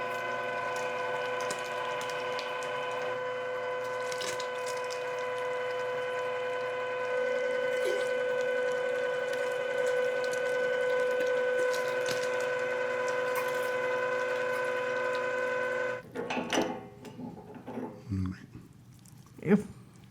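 Electric meat grinder fitted with the big-hole plate grinding turkey, a steady loud mechanical whine and hum running for about sixteen seconds before cutting off, followed by scattered clanks and some voices.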